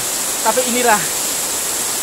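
A small, fast-flowing river near Tumpak Sewu waterfall gives a steady, loud rushing hiss throughout, while someone speaks briefly over it.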